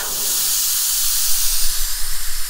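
Air hisses steadily and loudly out of a Suzuki Jimny off-road tyre being deflated, a close continuous rush with slight fluttering toward the end, no voices.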